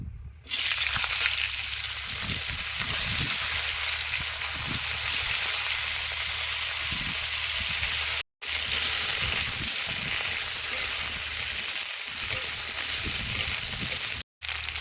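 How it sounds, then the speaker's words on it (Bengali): Cauliflower frying in oil already used for frying fish, a loud, dense, continuous sizzle with occasional bubbling, cut by two brief silences. "মাছ ভাজা তেলের মধ্যেই ফুলকপিগুলো দিয়ে সুন্দর করে ভেজে নেবো"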